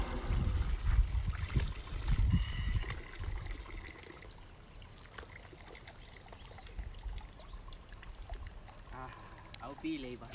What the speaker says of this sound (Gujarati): ડંકી કહેવાય ને હેડપંપ કહેવાય